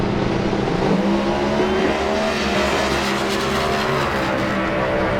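A drag racing car running down the strip at a Noble, Oklahoma competition eliminator race, a loud, sustained engine roar whose pitch rises and falls over several seconds, heard from a distance without any voices.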